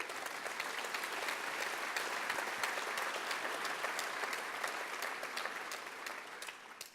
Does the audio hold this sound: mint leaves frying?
no